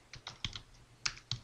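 Several crisp keystrokes on a computer keyboard while a Python program is written in Notepad, tapped in an uneven rhythm, close and clear with no talking.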